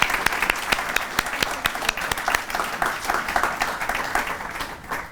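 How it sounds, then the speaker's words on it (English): Audience applause at a dedication ceremony honoring Phoebe A. Sturm at a college, a steady wash of many hands clapping with sharp individual claps standing out, fairly close and continuous, fading slightly near the end. "So I'll give you another round of applause."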